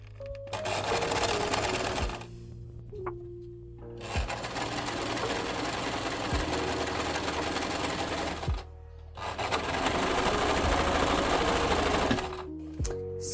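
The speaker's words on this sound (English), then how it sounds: "Now I'm going to go ahead and stitch the length side of the scrunchie." A sewing machine stitches the long side of a fabric scrunchie in loud, steady mechanical runs, stopping briefly a few times before starting up again, with no talking over it.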